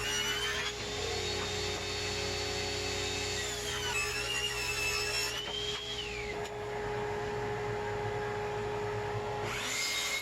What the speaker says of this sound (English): over at the miter saw, cut a 45-degree miter into one end of the boards